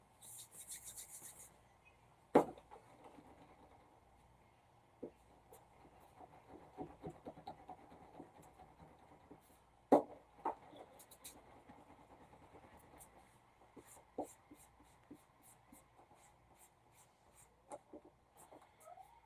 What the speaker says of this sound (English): Now I'm just rolling my kneaded eraser across.